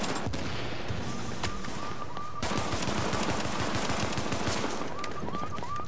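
Gunfire in the video game The Division crackles in rapid automatic bursts and scattered shots, a steady stream of loud pops layered over the game's background ambience.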